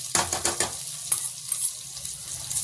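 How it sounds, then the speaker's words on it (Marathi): Ghee, cumin and sautéed vegetables sizzling in a hot pan, with a few quick scrapes and clinks of stirring over a soft, continuous frying hiss. "तूप घालणार आहे जिरं घालणार आहे भाजी जी परतून घेतली होती ती मी घालणार आहे"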